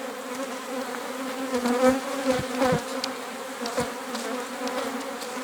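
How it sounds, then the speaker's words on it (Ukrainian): An autumn honeybee swarm entering a hive colony produces a dense, close buzzing hum that rises and falls in waves, with individual bees droning past near the microphone. "Але ось так матку вбили на рядку і сім'я заходить."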